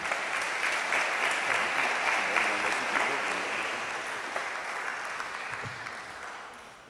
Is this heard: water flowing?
no